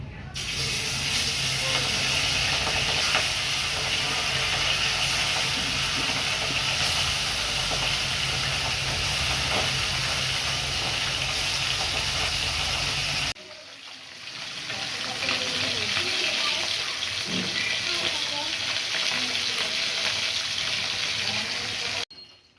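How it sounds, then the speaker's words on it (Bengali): Small bata fish frying in hot oil in a wok, a loud continuous sizzling hiss that drops briefly midway, probably as the fish are moved, then carries on steadily. "মাছগুলো আমি ভেজে নেব।"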